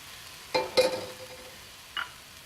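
Partially cooked kabocha squash pieces land in a skillet, giving a few short, quiet sizzles and taps, one cluster near the start and a brief hiss a moment later against faint background.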